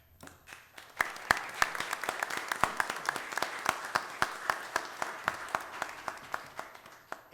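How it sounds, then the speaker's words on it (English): At a city commission meeting, an audience claps in a round of applause, starting softly and then settling into a moderately loud, sparse pattern of distinct individual claps spread across the room. "I hope you will join me in giving them a big round of applause"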